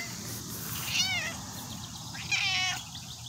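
A garden cat meows twice, each call a clear rising-falling cry, the second slightly louder, over steady low outdoor background noise in a garden.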